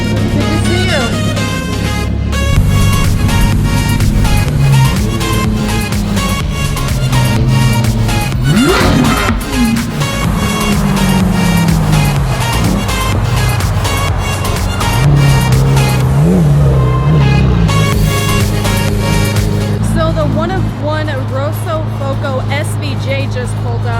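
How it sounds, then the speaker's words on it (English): Lamborghini Aventador S with a loud Gintani exhaust roars and revs nearby among a group of other Lamborghinis, with engine pitch climbing and falling through repeated bursts, and people talking over it. "This has a brilliant exhaust. It sounds insane."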